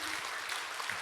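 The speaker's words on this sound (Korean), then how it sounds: "박수로 맞아주시기 바랍니다." A congregation applauds during a Sunday church service to welcome someone back, a brief burst of dense, steady clapping heard from within the room.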